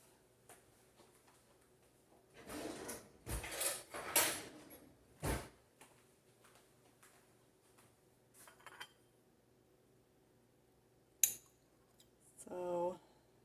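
Cutlery and dishes clatter in a kitchen as a knife is fetched: scattered clinks and rattles, a burst of scraping and knocks, then sharp metallic taps later, close and fairly quiet, with no one speaking.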